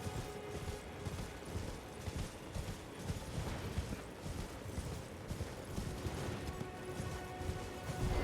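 Hooves of a horned, horse-like mount clip-clop in the video game Elden Ring, a quick, steady rhythm of soft beats over a dense, low background of game sound.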